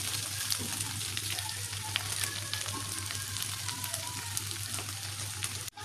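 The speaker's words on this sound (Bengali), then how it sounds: "ডিমটাও অনেকটা ভাজা ভাজা হয়ে এসছে আর একটুখানি ভাজবে" An egg fries in a pan with a dense, steady sizzle and crackling pops, close and continuous, with a low hum underneath.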